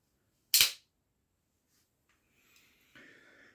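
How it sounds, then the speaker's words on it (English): A Sfarziglia, the Neapolitan Camorra fighting knife with a carraca ratchet lock, gives one loud, sharp burst of ratcheting clicks as it opens, followed by near silence and a few faint handling noises. "a very familiar lock from the Spanish navaja, so-called carraca, ratchet"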